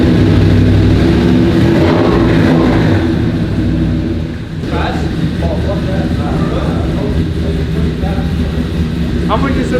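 A classic car with a standalone fuel system runs at a gathering, its engine giving a low, steady rumble that holds throughout, close by and under people talking nearby.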